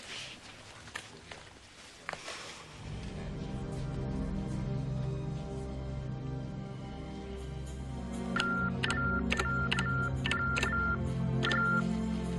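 A telephone line for the deaf sends a string of short, bright beeping tones over a steady low hum, coming in a regular, repeating pattern partway through, fairly close and clear.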